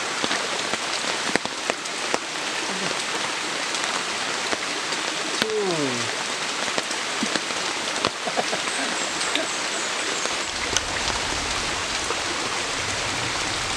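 Steady rain pattering on a surface in a mountain setting, a continuous dense wash of drops throughout, with a brief whistle-like tone partway and faint background voices.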